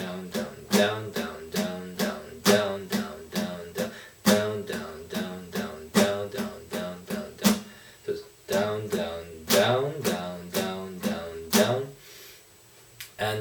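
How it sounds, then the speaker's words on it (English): Steady all-down-stroke strumming on an acoustic guitar, played without a capo, with evenly spaced strums in a regular rhythm, close and clear, briefly pausing near the end. "you can use this strumming pattern,"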